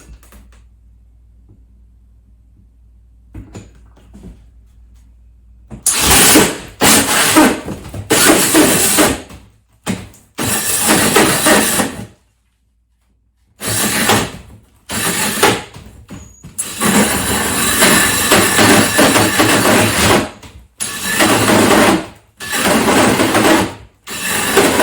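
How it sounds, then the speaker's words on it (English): A drill bores a hole in the wall for mounting a Hampton Bay NB49302 vanity light above a mirror, loud and close, in several bursts of whirring and grinding separated by short pauses. "So let's go ahead and get this hole drilled."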